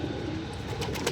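A racing pigeon gives a low, soft coo close by, over a busy background murmur.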